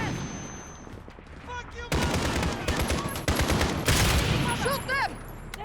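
Automatic gunfire erupts in the video game Call of Duty: Modern Warfare (2019), loud rapid bursts and rattling volleys close by that grow denser partway through, with voices speaking under the shooting.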